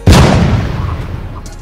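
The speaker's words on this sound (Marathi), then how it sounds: "हा 5 तोफांची सलामी" One cannon of a five-cannon salute fires a single loud, close blast. A long rumbling echo decays over the next second and a half.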